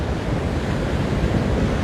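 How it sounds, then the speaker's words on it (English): Strong wind buffets the microphone at Waimanalo Beach in Hawaii, a dense, steady broadband roar with surf mixed underneath, loud and unbroken throughout. "it is windy, very windy"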